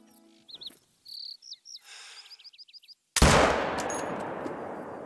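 A single sharp rifle shot aimed at a whitetail buck roughly 240 yards away cracks loudly in the hunting game Call of the Wild, ringing out and fading, after quiet ambient bird chirps and insect calls.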